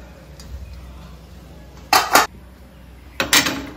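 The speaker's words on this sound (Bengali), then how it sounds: "এখন কাঁকড়াগুলোকে মা ঢেলে দিচ্ছে কড়াইয়ের মধ্যে।" Crabs are poured from a container into a wok of water in a home kitchen, giving two short, loud clattering bursts with metallic clinks and quiet pauses between.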